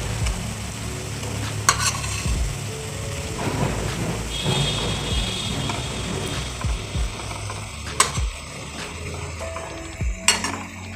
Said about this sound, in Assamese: মাছখিনি এবাৰ লুটিয়াই দিছোঁ